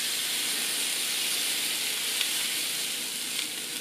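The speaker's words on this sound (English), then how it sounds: "put them on a hot plate, and squash them flat with an oiled spatula" Pork burger patties pressed flat on a hot plate, giving off a loud, even, hissing sizzle that holds steady with no pauses.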